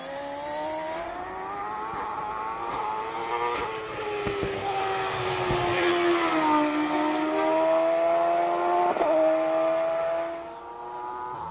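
A race car's engine roars up the Simola hillclimb track in a King of the Hill shootout, a loud sustained howl rising and falling through gear changes as it climbs, then dropping away near the end.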